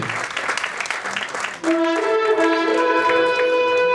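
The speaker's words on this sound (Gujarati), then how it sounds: "એકવાર જોરદાર તાળીઓ થઈ જાય મનીષભાઈ માટે" A crowd at an event applauds in a dense burst of clapping, then music with sustained tones enters and plays over the fading claps.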